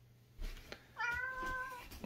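A kitten or cat gives a couple of short meows close by, the second longer and drawn out, in a quiet indoor setting.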